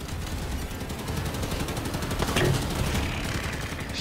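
Turret gunfire in the Halo 5 Guardians video game rattles in rapid continuous bursts, with a louder shot or impact midway, heard alone without talk.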